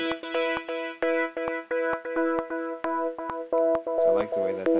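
A GarageBand electronic track plays a steady repeating synth pattern with crisp percussive hits, a tempo-synced eighth-note track echo trailing each note, and a denser bass-heavy section entering near the end.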